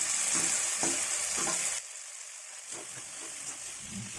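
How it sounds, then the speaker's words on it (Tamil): Tomatoes and onions sizzle loudly in a pan for turkey berry kuzhambu as a spoon stirs with scraping strokes. The hiss drops suddenly partway through, then quieter stirring and frying continue with no speech. "இப்போ இதை நல்லா கிளறி விட்டுக்கலாம்."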